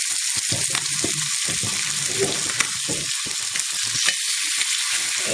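Fish pieces shallow frying in oil just after being flipped, a steady broadband sizzle with crackles and pops throughout, close and fairly loud, with no talking.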